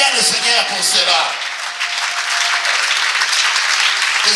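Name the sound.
church congregation cheering and acclaiming the Lord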